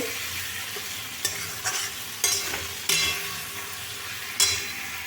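Spices sizzle in a pan, just uncovered, for a Bengali chhana (paneer) curry while a utensil stirs and scrapes, giving a few sharp clacks over a soft, constant frying hiss.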